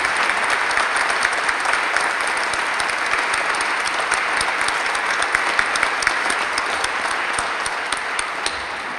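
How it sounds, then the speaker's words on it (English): An audience at a city inaugural celebration applauds in a dense, steady round of clapping that fills the hall at an even level for several seconds, with no speech over it. "I hope everyone will join me now in a round of applause for Mark and his service to the city"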